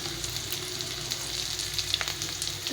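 Onion, garlic, salt, turmeric and other spices fry steadily in hot oil in a pan for khichuri, a close, continuous sizzle with faint stirring scrapes and no talking.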